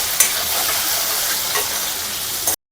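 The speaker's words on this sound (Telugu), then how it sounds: "తెల్లగడ్డలు, ఆనియన్స్, వేసుకోవాలి. ఇంక ఇది బాగా ఫ్రై చేసుకోవాలి." Garlic and onions fry loudly in a pan, a dense, close sizzle with faint stirring scrapes, ending abruptly with no voices.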